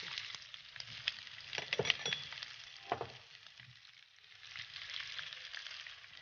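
Bell peppers added to carrot and onion frying over high heat in a pan for a sweet and sour egg dish, a steady close sizzle with spatula scrapes and a few light clinks, no talking.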